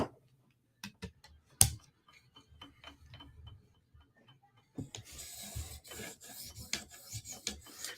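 A knife is stroked across an 800 grit stone on a TSProf Kadet sharpener, giving quiet scattered raspy scrapes and clicks that turn into a denser, steady rubbing grind in the second half.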